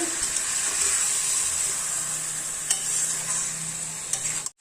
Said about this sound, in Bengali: 10 মিনিট মাংসটাকে কষাবো এভাবে